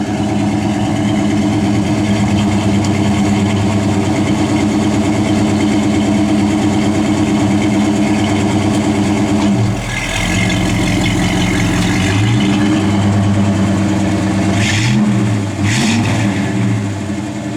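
A 1955 Chevrolet Bel Air with a mildly built 283 V8 idles loud and close with a lumpy, steady rumble, then briefly revs and settles back to idle near the end.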